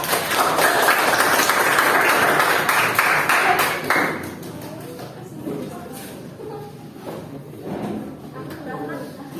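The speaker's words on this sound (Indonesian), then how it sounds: "Kita kasih aplaus untuk kelompok" A classroom group receives applause, a dense broadband clapping burst that fills the first four seconds loudly, then fades into scattered claps and murmuring voices.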